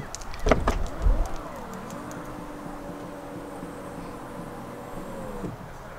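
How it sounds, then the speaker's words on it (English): Chevy Tahoe rear liftgate opened with the remote keyless fob: two quick clicks, then a steady electric motor whir that holds for about four seconds before stopping with a soft thud. "This is the remote keyless thing, and this is how you open the trunk. So you hit this two times."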